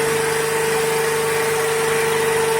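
A DC shunt motor in a lab test runs at 1500 rpm with no load, giving a steady close electric hum with a constant whine and broadband whir, and no talking.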